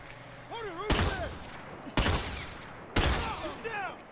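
Three heavy, booming blasts from a tactical shotgun in a multiplayer video game land about a second apart, loud and close, with whistling game effects between the shots.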